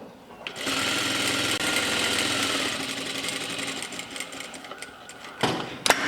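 An industrial sewing machine stitches shirt fabric in a steady, rapid, close whir for several seconds, then winds down and stops, followed by a few small handling clicks.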